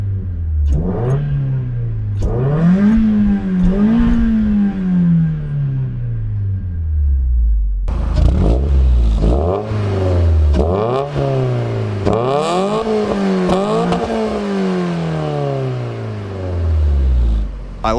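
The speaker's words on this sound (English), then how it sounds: "I'm gonna record my revving clip first, just over here." A Mazda Miata engine with an aftermarket muffler revs repeatedly, rising and falling in several sharp bursts with a raspy exhaust note, close by and loud, no talking.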